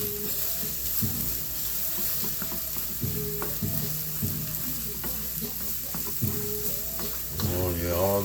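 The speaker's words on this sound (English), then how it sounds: "Get us a little stir right here." Egg whites with spinach, onions and mushrooms sizzle in a pan while a utensil scrapes and stirs in repeated strokes, the frying hiss steady underneath and a brief tonal rattle near the end.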